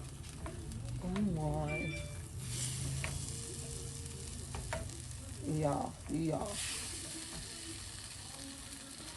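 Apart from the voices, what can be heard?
stirring paella in a pan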